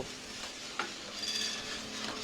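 Steady dry rattling and clinking of coffee beans tumbling inside a rotating metal 1 kg roaster drum, continuous and close, with no talking.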